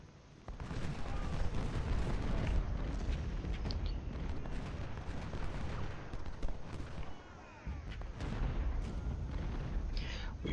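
Battlefield gunfire from Ultimate General: Civil War at Gettysburg, dense rolling musket and cannon fire crackling and booming continuously, with a brief lull near the end before the volleys resume.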